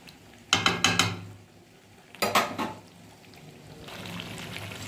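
Potatoes are stirred into chicken curry in a pan, making two quick bursts of clattering and scraping against the metal, followed by a soft, steady sizzle.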